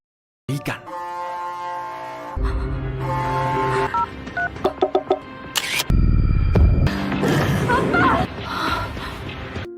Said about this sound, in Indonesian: Nami mencoba menelepon Jiman